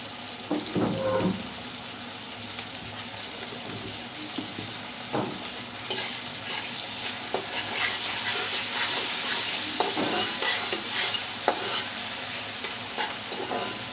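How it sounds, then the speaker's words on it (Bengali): Prawns frying in a pan with onion, garlic and a pinch of turmeric for a simple radish bhaji, giving a steady close sizzle broken by repeated scraping and clattering stirring strokes, with no talking. "চিংড়ি মাছটাকে পেঁয়াজ আর রসুনের সাথে একদম ভাজা ভাজা করে নিব"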